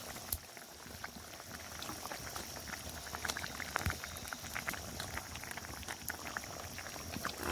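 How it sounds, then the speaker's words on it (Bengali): Ridge gourd curry with fish bubbles in a pot, a soft, continuous boil with scattered pops, close up and fairly quiet, with no speech. "ঝিঙের তরকারিটা বেশ কিছুক্ষণ ফুটিয়ে নিয়েছি মাছ দেওয়ার পর"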